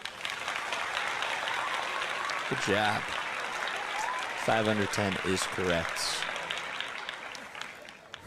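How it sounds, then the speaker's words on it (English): Sustained applause from a baseball crowd at a Phillies–Braves game in Atlanta fills the whole stretch, steady and dense, while a broadcaster talks over it. "So a round of applause to Larry and Tyler."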